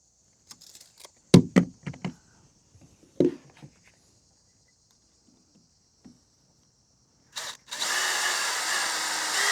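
A power drill drives screws into a wooden ramp, with a few short bursts and clicks early on, then a steady, loud whirring run near the end.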